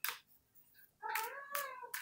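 A cat meows twice, a short cry followed by a longer drawn-out mew with a final brief call, close and fairly quiet against a soft background.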